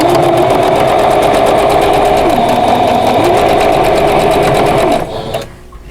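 A sewing machine runs steadily, stitching quilt block seams at a scant quarter-inch allowance, with a loud continuous rapid whirring chatter that slows and stops near the end.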